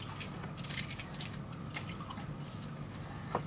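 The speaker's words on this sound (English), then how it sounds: "You don't want to hear me chewing gum." Gum with a fruity, non-minty flavor, like a chiclet, being chewed close up: soft, wet, irregular smacking and squishing, faint and steady, with one slightly sharper click near the end and no talk.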